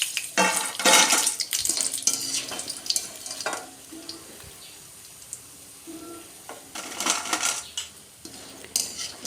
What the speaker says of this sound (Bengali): তারপর একটা ছাঁকনির সাহায্যে নাড়িয়ে চাড়িয়ে ভালো লাল লাল করে ভেজে নিতে হবে, মুচমুচে করে।